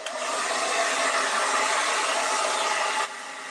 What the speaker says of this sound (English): I am going to throw a little hair dryer on that just to get the purple to dry real quick.